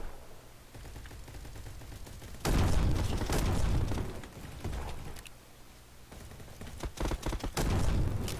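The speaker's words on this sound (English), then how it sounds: "Stop shooting me." Gunfire in a shooter video game, loud bursts of automatic fire and booming shots that come in waves and drop back between them, with no voices.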